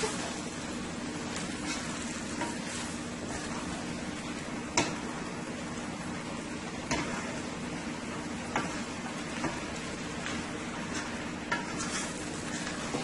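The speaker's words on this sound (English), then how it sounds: "And you want to fry your spinach on high heat." Spinach and beef fry on high heat in a pan, a continuous dense sizzle with occasional scraping stirs and light clinks of a utensil against the pan.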